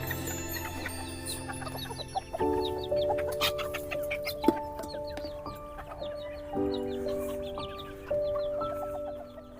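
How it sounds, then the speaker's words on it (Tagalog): A tethered chicken clucks in a bonsai garden alongside other fowl, soft repeated clucks and calls coming through a quiet, faint outdoor scene with no talking. "Itong manok dito, kawawa."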